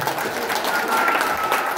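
Steady applause from a crowd at a Kikuyu-language celebration event, dense clapping sustained throughout the short stretch with a faint voice underneath.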